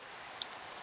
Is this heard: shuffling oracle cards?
no